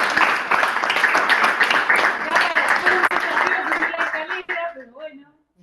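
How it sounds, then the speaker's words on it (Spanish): Audience applause after a question-and-answer talk at a Semana de la Memoria event, a sustained loud wash of clapping with voices mixed in, thinning and fading out over the last second. "le vamos a dar un aplauso"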